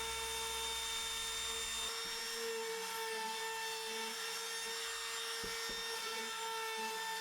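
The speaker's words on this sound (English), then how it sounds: "Now everything gets a little chamfer around it just to soften the edges" A high-pitched rotary power tool whines steadily while chamfering the edges of a handmade wooden toy, loud and close throughout with brief dips as the cutter touches the wood.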